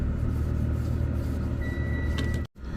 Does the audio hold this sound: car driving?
yes